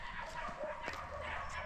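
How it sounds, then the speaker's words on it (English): Dogs barking in the background at a seaside city, with a few yips and whimpery barks heard faintly and far off under steady street ambience. "there is background noise of dogs barking all over it"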